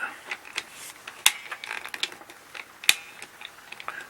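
A cheap PEX crimp tool clicks and ratchets in a close, irregular series of sharp metallic snaps, with two louder clacks standing out and no voice over them.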